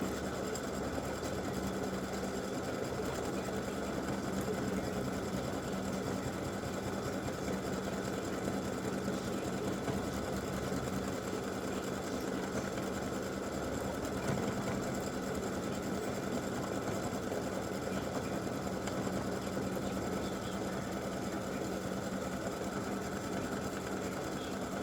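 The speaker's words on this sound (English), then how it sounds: "it's going to do the satin stitching on this inside part" An embroidery sewing machine runs steadily while satin stitching a freestanding lace pretzel earring, a continuous dense mechanical whir with no other sounds.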